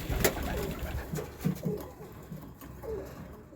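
Wiener ornamental pigeons at a breeder's loft in Szczecin give soft, low, repeated coos, faint and close amid quiet background rustling.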